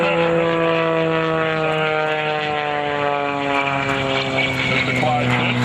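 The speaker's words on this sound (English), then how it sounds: "The Pitts aircraft" A Pitts aerobatic airplane with a Magnum engine flies overhead at an airshow, giving a loud, steady propeller drone with shifting pitch under continuous announcer talk.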